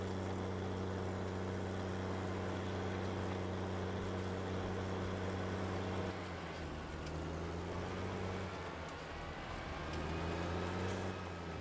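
Tractor engine in the Farming Simulator 19 video game, a steady droning motor hum with strong low tones running continuously, dipping briefly in pitch and level partway through before settling back.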